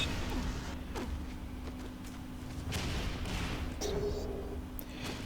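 Sci-fi gunfire and fighting in Quake 4 multiplayer, with repeated sharp weapon blasts and impacts over a steady low mechanical hum, moderately loud and continuous.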